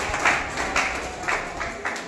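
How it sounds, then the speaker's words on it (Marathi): Applause from an audience for the teachers and staff at a school prize event in Nashik Road, heard as a steady wash of clapping that swells rhythmically several times over a couple of seconds. "आपण सर्वांनी एकदा जोरदार टाळ्या वाजवून त्यांना प्रोत्साहन द्यावं"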